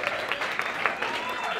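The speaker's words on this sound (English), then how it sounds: "Big round of applause for Jim Nathan" Audience applause for a stand-up comedian, a short dense patter of clapping with a voice riding over it, brief and steady throughout.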